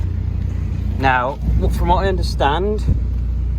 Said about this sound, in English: Now apologies for the exhaust noise